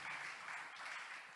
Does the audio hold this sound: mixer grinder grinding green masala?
no